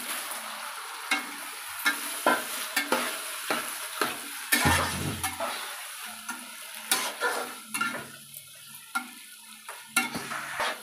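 Chicken pieces stirred into fried spiced oil in a pan for chicken pulao, with steady sizzling and frying under repeated scraping stirs of a utensil, close and fairly quiet, no talking.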